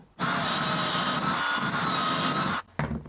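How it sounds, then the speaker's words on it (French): An electric drill runs at maximum speed through a wooden board held under a clamped jig while a Montessori baby bed is built, giving a loud, steady whine for over two seconds that cuts off, then briefly starts again. "Vitesse maximale sur la perceuse."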